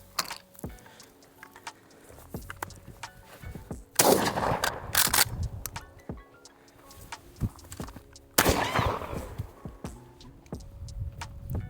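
Shotgun fired outdoors while practising for hunting season, two sharp loud blasts a few seconds apart, each followed by a rolling echo, with faint scattered clicks and knocks between.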